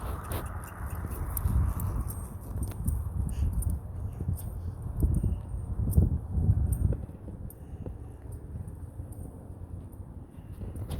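A horse trots around under a rider, its hooves clip-clopping in a steady rhythm at close range, with rustling and faint background noise.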